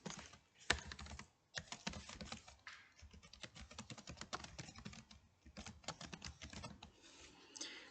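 Rapid typing on a computer keyboard, close and crisp, with bursts of quick key taps separated by brief pauses and a heavier keystroke early on, no voices.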